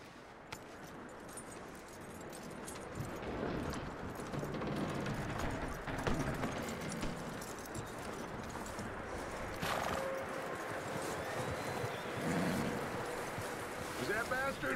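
Horse hooves clip-clopping in a steady walking rhythm in Red Dead Redemption 2, accompanied by an occasional whinny and soft wind in the background, with no talking.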